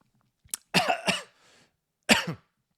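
A few sharp coughs close up after tasting olive oil, a quick cluster followed by a pause and one more harsh cough, with a faint throat sound between.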